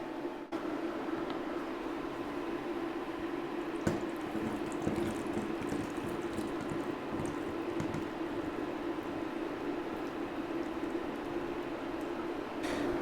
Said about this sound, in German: Ich gieße sie in ein Sieb, damit sie abtropfen können.